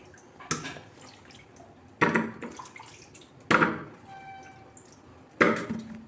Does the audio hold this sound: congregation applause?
no